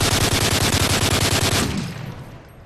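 Rapid automatic gunfire in Modern Warfare 3 multiplayer rattles in a loud, fast burst of evenly spaced shots for about a second and a half, then trails off into a fading echo.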